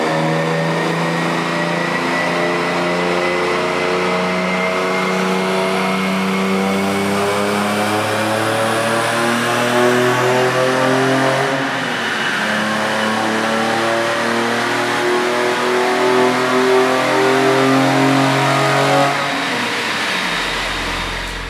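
A BMW E46 M3 engine fitted with a carbon fiber CSL-style intake revs loudly and continuously for about twenty seconds, its pitch rising and falling through sustained throttle sweeps before cutting off abruptly, with no talking.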